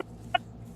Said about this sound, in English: My cat is my bird is laughing her ass off at me right now.